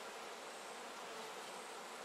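A small swarm of honey bees gathering at a new hive, a dense steady buzzing drone heard faintly without pause or voices.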